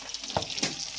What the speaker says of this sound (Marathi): तर काय आता मस्त इकडे बांगडे फ्राय करायला चालले.